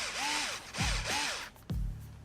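Cordless drill driver on a low torque setting driving screws into plastic parts of a Traxxas Slash LCG front differential, three or four short whirring bursts that rise and fall in pitch, each ending with a quick clutch click, no voices.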